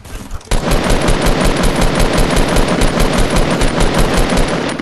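Loud, rapid automatic gunfire in the Fortnite: Battle Royale video game, a continuous fast burst close up that runs almost the whole time after a short lead-in.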